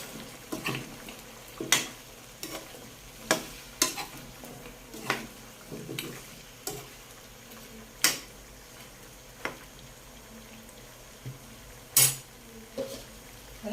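Pork adobo with pepper and potatoes is stirred in a pan, making irregular spoon scrapes and clinks against the metal over a faint sizzle, close by and with no talking.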